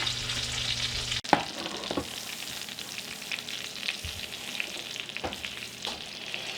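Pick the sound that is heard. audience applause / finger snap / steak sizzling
steak sizzling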